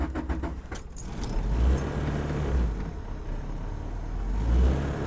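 A Honda Civic with a swapped H22A engine idles close by in a steady low rumble. A few metallic jangles come at the start, and the engine note swells slightly twice.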